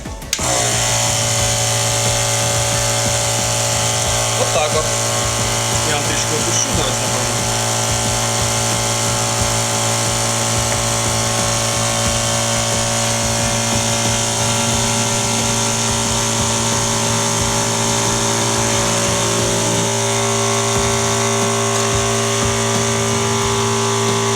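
A water cooling unit for a TIG torch running steadily after being switched on, a constant motor and pump hum with a sustained tonal whine and faint rattle, close and even for the whole stretch.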